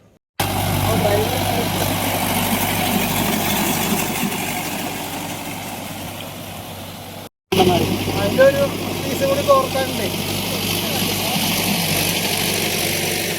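A tractor engine runs steadily while preparing a paddy field in Amayur, Pattambi, a loud continuous drone with a brief break partway through and busier mechanical clatter afterward.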